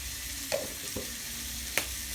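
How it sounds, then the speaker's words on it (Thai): Pickled mustard greens with egg stir-fry in a pan, giving a steady, soft sizzle with a few faint scrapes and taps from stirring. "ผัดไปเรื่อยๆนะครับ"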